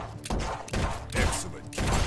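Shotgun blasts in a VR shooter game, four heavy booming shots spaced about half a second apart, loud and close with no talking.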